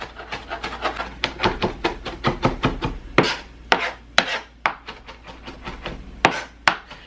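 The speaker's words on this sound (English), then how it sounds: "Now I'm gonna take my knife, okay, and just chop it up." A knife chopping fresh cilantro on a cutting board for a fish taco, a quick run of close, crisp blade strikes that slows into scattered louder chops, with no talking.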